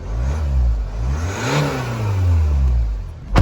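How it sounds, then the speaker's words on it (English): A Hyundai Santa Fe turbo diesel engine revs up and settles back down, a deep steady rumble with a rising whine in the middle, close and loud. "Give it a bit of a rev so you can hear it."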